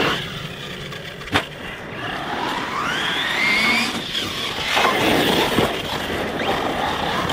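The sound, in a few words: engine revving as the throttle is feathered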